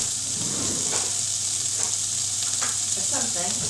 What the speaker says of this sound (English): we've got leeks and onions in the pan